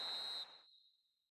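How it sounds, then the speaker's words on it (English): A referee's full-time whistle in the football game PES 2021: one sharp, piercing blast that cuts off and rings away to silence. "Added time is up, and there goes the whistle."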